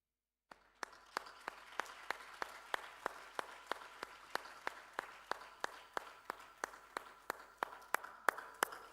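Applause as a guest is called to the stage at an anniversary event: a single person's sharp, evenly spaced claps, about two per second, fairly close and clear over a quiet background.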